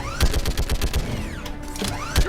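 Mounted turret firing in Mass Effect 3 during combat against geth, a rapid, loud stream of shots in close succession with brief gaps between bursts.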